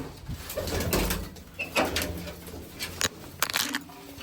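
Soft pigeon coos heard amid scraping, shuffling and occasional knocks as the pigeons are fed grain, fairly close, with a busy background.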